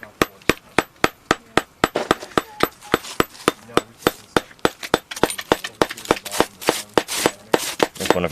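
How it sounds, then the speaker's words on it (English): A data spike is hammered into rock at a dinosaur dig site: about two dozen sharp metallic blows land close by in a steady, brisk rhythm, each ringing briefly before the next strike. "There's one of our data spikes that Ethan's hammering in."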